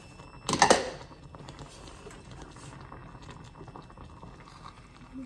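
Jasmine rice boils in a pot, a close crackling bubbling that opens with a brief loud clatter and then settles into a soft steady simmer.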